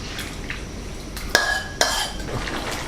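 Utensil scraping and clinking against a pan as catfish pieces are stirred and flipped during a Thai spicy stir-fry, two sharp metallic knocks standing out over a low, steady background of cooking noise.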